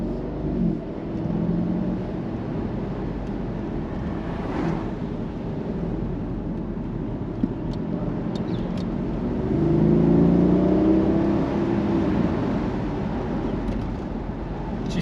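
A Mercedes SL550 in Sport Plus mode drives a twisty road, heard from inside as a steady low engine drone that swells as it accelerates, with faint road rumble and no talk.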